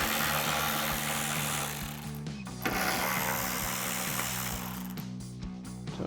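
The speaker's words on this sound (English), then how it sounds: "we have these 2 T15 Torx screws holding it in. So we'll go ahead and run those out" A hand ratchet clicks rapidly and evenly up close as it backs two T15 Torx screws out of a 2019-2024 GMC Sierra 1500 taillight, with brief pauses between runs.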